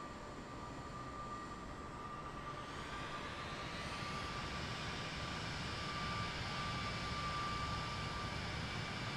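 Boeing 747 Dreamlifter jet engines in Microsoft Flight Simulator 2024 hold a steady, broad roar with a faint high whine, continuous and unchanging for several seconds, with no one talking.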